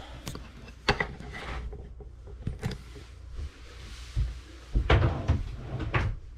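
Shower door in a small shipping-container tiny house opened and closed a few times, giving several knocks and thuds with rattling and shuffling between them, close by and without talking.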